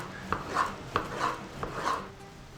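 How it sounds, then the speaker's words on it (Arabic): A knife cuts lamb tail fat on a board for chicken kebab, giving three sharp knocks, each followed by a soft scraping slice, close and moderately loud with no talk. "اول شيء بنبلش فرم، رح نقطع الليه"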